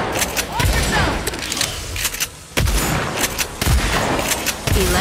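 Bursts of rapid gunfire and loud impacts repeat in the Agents of Mayhem video game during a firefight, with voices calling out between and over the shots.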